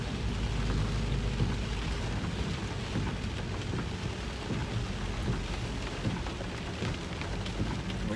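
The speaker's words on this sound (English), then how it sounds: "Whoa! Big thunder," Heavy thunder rumbles during a tornado-warned storm in Arkansas, heard from a moving vehicle, blending into a constant roar of rain and wind with no talking.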